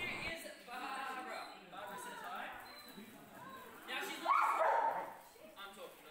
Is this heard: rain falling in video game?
no